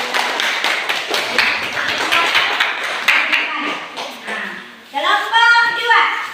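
Students in a classroom clap their hands in a dense burst of overlapping claps, with children's voices chattering underneath, then the clapping fades and a child's sung or drawn-out voice rises near the end.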